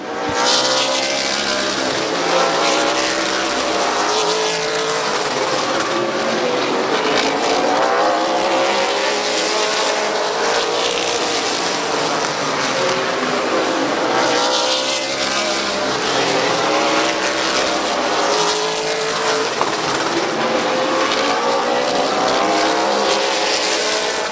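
Race cars roar continuously around Midvale Speedway, several engines overlapping at a steady high drone with rising and falling pitch as the pack battles through the turns, loud and close throughout.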